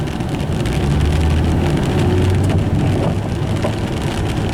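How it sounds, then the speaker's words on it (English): Rain patters steadily on a car, a dense close hiss of drops over the low hum of the idling engine, with no talking. "We are free now, but the rain is picking back up again."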